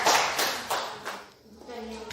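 Schoolchildren in a classroom clap together for their classmates' group, a short burst of close, crackling applause that fades partway through and picks up again faintly, with a voice mixed in.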